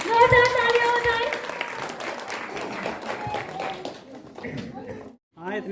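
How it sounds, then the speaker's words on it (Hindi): A crowd at a children's play zone grand opening claps loudly for a match winner, a dense wash of applause that fades after a few seconds, with voices and other sound mixed in. "जोरदार तालियां हो जाए।"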